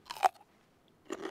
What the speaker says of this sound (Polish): Temat chrupnął oczywiście Mateusz Nowak, który i nas w marchewkę z lokalnego bazarku wyposażył.